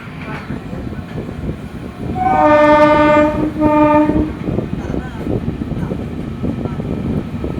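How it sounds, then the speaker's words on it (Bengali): Two trains, a local and the Tamil Nadu Express, rumble past steadily on the Howrah line while a loud horn blares twice in long, close blasts over the rolling clatter. "দুটো ট্রেনের রেস লেগেছে এখন, একটা লোকাল আর আমাদের তামিলনাড়ু এক্সপ্রেস"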